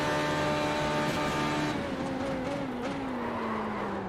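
A loud, steady racing engine whines continuously in the iRacing sim racing game, a Formula B car at Spa-Francorchamps, its pitch sliding downward as it decelerates, with no voices.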